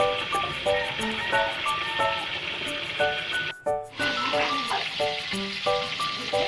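Hot oil sizzles and spits steadily in a pan of frying fish, a dense close crackling hiss that dips briefly partway through, with a few bright clinks over it.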